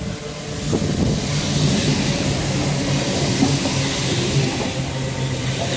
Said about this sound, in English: we got a Great Western Railway service to Swansea coming in